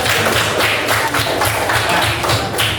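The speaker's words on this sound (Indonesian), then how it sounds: "Oke, kita kasih tepuk tangan." Applause during a classroom quiz game in Indonesia, a steady fast patter of hand claps from a group, fairly loud and continuous throughout.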